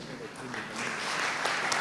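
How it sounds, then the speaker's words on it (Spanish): Applause from an audience of about 160 at a live event swells steadily, a dense wash of clapping heard fairly near with speech mixed in. "a recibirte el baño de aplausos"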